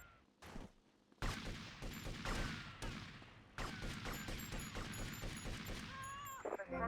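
Video game gunfire in GTA Vice City rings out as dense, loud bursts of repeated shots and booms, nearly continuous after a brief quieter opening.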